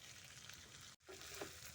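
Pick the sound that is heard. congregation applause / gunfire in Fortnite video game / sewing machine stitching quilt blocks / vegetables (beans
vegetables (beans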